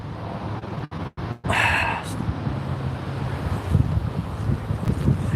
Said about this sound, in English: Yeah, it's windy right now and rainy.